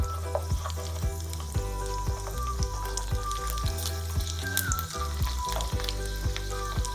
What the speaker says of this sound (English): let the garlic fry in the oil for few minutes so that the rawness of the garlic goes away